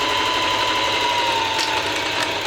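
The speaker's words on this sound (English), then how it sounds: "And I'm just going to sew up all 3 of these seams for all 3 layers." Sewing machine stitching seams through three layers of fabric, a steady continuous mechanical whir with rapid needle chatter, close and alone without talk.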